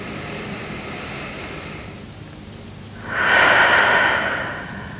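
Slow, deep breathing during a prenatal yoga twist: a long, quiet exhale fades out, then a fuller, louder inhale swells through the nose and holds, close and airy.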